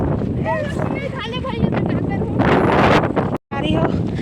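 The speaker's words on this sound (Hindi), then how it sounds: "हवा चलते अच्छा है" Wind buffets an outdoor microphone with a steady, rumbling roar that runs throughout, while people talk over it and one short dropout cuts the sound.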